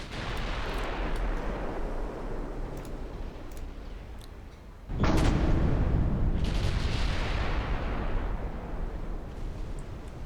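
Naval shell fire and hits in a US war campaign video game: a continuous rumbling barrage, then a sudden loud boom halfway through that leaves a heavier roar of distant gunfire and impacts.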